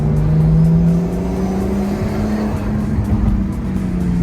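A manual-transmission Nissan Skyline drives off, its engine giving a loud steady drone that rises slightly in pitch as it moves away; no talk.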